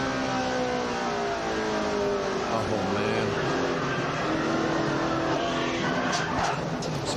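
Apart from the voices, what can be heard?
onboard NASCAR race car engine, 2004 Ford 400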